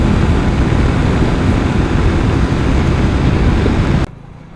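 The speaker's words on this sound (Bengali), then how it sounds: "আর বাতাসের যে গতি, কান মান ঝালাওয়ালা করে ফেলতেছে।" Strong wind roars past while riding fast on a road trip from Khulna toward Dhaka, a loud, continuous buffeting rush that cuts off abruptly near the end.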